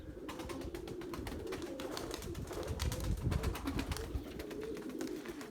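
Pigeons at their loft give soft, repeated throaty coos, with steady rustling and faint chirps around them and no talking.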